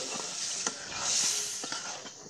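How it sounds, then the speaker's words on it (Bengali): Potatoes sautéing in a pan over a clay stove: a soft steady sizzle and hiss with light scraping strokes of a stirring spoon, fairly faint, and no talking. "এই তো আলুগুলো কষিয়ে সিম তরকারি দিয়ে নেব"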